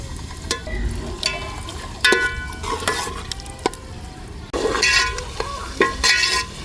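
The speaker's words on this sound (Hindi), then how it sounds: "अभी जी आग जला ली है मैंने और ऑयल डाल दिया, प्याज डाल रही हूँ।" Onions fry steadily in hot oil in a pan, with a spoon stirring and scraping the pan now and then and occasional metal clinks.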